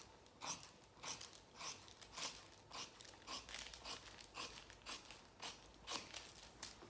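Scissors snipping through fabric while cutting out dress pattern pieces, a steady run of crisp close cuts roughly every half second, alone and quiet.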